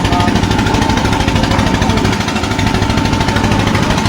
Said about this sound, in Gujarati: બરફ જો ચાલુ થઈ ગઈ છે આખી લાદી ઓલા મશીનમાં નાખી દઈએ પછી ભૂકો કરીને ઓલા પાઇપમાં જ ડાયરેક્ટ જાય બોટના કોલરૂમમાં